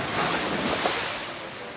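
Stunt car landing in the water under a parachute, followed by a broad wash of waves and surf with wind buffeting the microphone, steady and moderately loud.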